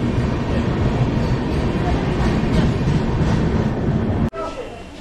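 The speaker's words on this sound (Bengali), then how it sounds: "আমাদের ট্রেন 2 নম্বরে দিয়েছিল।" A passenger train rumbles at Jhargram station platform, a loud continuous roar of rolling wagons and rail noise that cuts off abruptly near the end.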